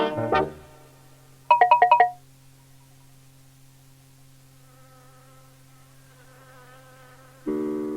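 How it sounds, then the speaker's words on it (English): Cartoon bumblebees buzzing in a children's silly-song animation: a steady, even drone that runs under a short burst of bright chiming notes, with a louder musical swell arriving near the end. "They'll buzz off to their hive, which is their home, so they won't have to buzz alone."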